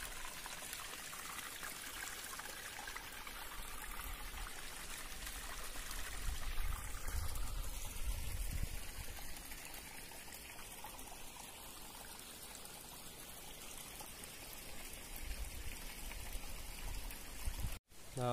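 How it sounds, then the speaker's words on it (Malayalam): A forest stream flows steadily at a spot where people usually bathe, a continuous close rushing and trickling of water that keeps up for the whole stretch with no talk. "ഇവിടെ ഒരു അരുവി പോലെയാണ് ഇപ്പോൾ വെള്ളം വരുന്നത്"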